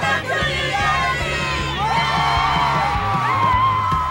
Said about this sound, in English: The crowd is pumped as our judges arrive.